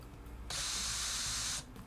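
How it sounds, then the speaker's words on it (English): A chamfering tool cuts the tops of holes in a repainted Fender guitar body, making a single steady, bright whirring hiss that lasts about a second, close and fairly loud, with no talking. "this is the chamfering tool"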